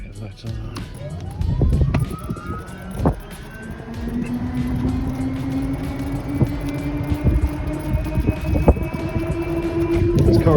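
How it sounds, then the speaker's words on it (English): A 2017 Icon golf cart converted with a Navitas drive kit rolls along with a rising electric motor whine that climbs steadily in pitch, joined by bumps and rattles from the ride. "Going for a ride on our 2017 Icon golf cart now with Navitas."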